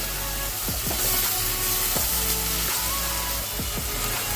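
A cheese, paneer and spinach gotalo mixture with coriander is stirred in a hot pan, a constant sizzle broken by repeated scraping strokes of the spoon at a slow, even pace.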